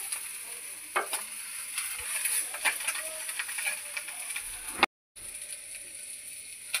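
Ganges morola fish frying in hot oil, a steady sizzle with stirring scrapes and small pops that runs on evenly and alone.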